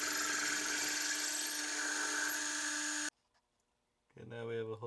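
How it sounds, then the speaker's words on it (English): A drill bores a 1/2 inch hole through metal while a gold ring is being made, a steady high whine for about three seconds that stops abruptly, then a short silence before a person speaks. "I first have to drill a 1/2 inch hole"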